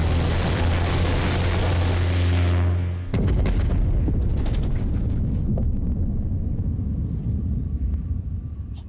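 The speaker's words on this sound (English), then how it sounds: "A UDL gunship just went down." Gunship going down in the video game The Outer Worlds: a loud, dense roar with a sustained low rumble gives way to a heavy blast around three seconds in, followed by a long booming, crackling rumble.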